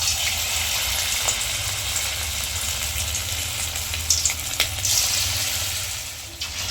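Chicken pakoras deep-frying in hot white oil, a steady hiss and bubbling sizzle running throughout, with a few soft clinks and stirs toward the end.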